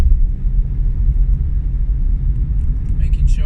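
Steady low road rumble of a car moving along a suburban road in the Sevenoaks area near Seal, Kemsing and Otford, heard from close by as a continuous engine and tyre drone with no distinct pass-by peak.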